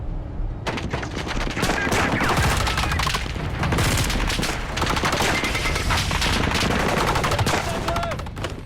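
Heavy gunfire erupts in an ambush during a mission in Iraq, dense rapid bursts of automatic fire and single shots crackling almost continuously from close range, with shouting voices mixed in.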